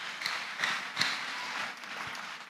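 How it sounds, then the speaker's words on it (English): A church congregation claps together, a brief burst of dense, moderately loud applause with a few sharper individual claps standing out, heard without talk. "Clap those hands beautifully, beautifully, beautifully for Master Jesus Christ"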